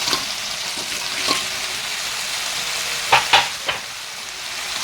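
Tilapia sizzles and crackles as it is stir-fried with celery in a hot pan, a steady bright hiss broken by a few sharp spatters and utensil scrapes, with no talk.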